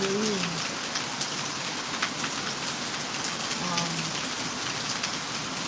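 Heavy rain falls steadily and loudly throughout, a dense continuous patter on surfaces with no letup, and no voices over it.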